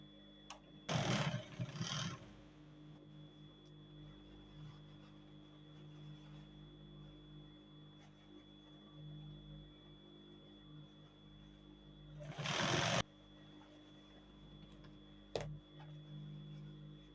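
A sewing machine stitches along the edge of cargo pants in two short, whirring bursts separated by a long quiet stretch with a faint hum and an occasional small click.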